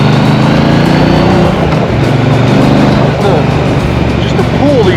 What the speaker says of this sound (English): I just love the sound of the bike.